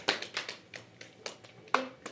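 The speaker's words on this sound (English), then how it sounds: "Round of applause for player 9," A small audience gives a round of applause for a player at a London Open event, with light, scattered claps that sound thin and somewhat distant.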